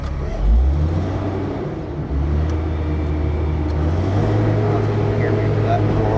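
A nearby engine rumbles and shifts pitch as its throttle is adjusted during timber salvaging, with a slight rev at the start and a steadier, higher drone later, under occasional talking.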